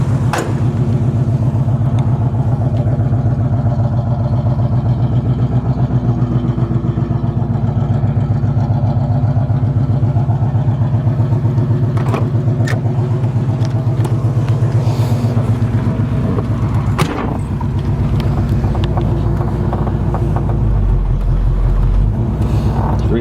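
A Chevrolet Camaro split-bumper tribute with a 350 V8, four-speed manual and 3.73 gearing cruises around the block, its engine a steady loud rumble throughout with brief shifts in tone.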